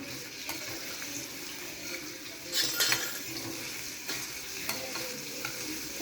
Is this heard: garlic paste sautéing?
yes